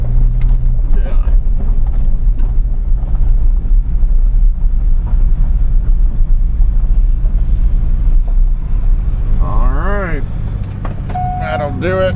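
A 2000 Chevrolet Corvette C5 with an LS1 V8 at a wrecking yard, idling with a steady, deep low rumble throughout while people talk over it.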